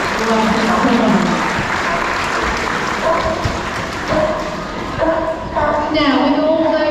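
An audience at a safari park seal show applauds Louis's seal impression, a steady crowd clapping throughout with voices and some tonal sounds mixed in.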